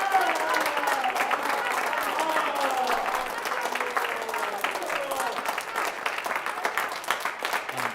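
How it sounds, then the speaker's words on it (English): An audience at a high school band Christmas concert claps steadily, a dense, even round of applause that lasts about eight seconds without fading. "So if we can give him a round of applause."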